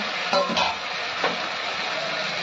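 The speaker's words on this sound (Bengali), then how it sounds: "এবার টমেটোটা দিয়ে দিই। টমেটো দিয়ে কষাবো" Tomatoes go into a pan of mutton curry with a steady, close sizzle of frying, broken by a few short clatters of stirring, and nobody speaks.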